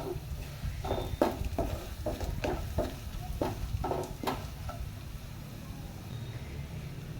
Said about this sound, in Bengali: আমি সব উপকরণগুলো এর মধ্যে আমি দিয়ে দেব, দিয়ে ভালো করে আমি নেড়ে চেড়ে নেব।